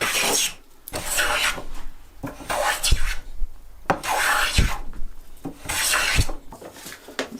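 Repeated rhythmic rasping strokes of a woodworking plane iron drawn across a sharpening stone, each pass a bright, hissy swish with short pauses between.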